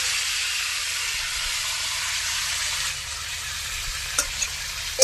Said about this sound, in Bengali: এখানে দেখো সবজি কিন্তু ভাজাই হয়ে গেছে অলরেডি